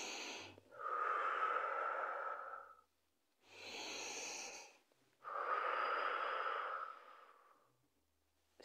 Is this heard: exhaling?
yes